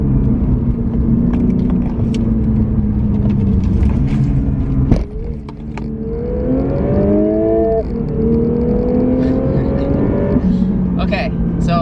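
Inside a moving Lexus RC 300 F Sport, a steady, loud engine drone and induction rumble continues throughout, with pitch rising and dropping as it shifts, plus a few clicks and knocks from the cabin.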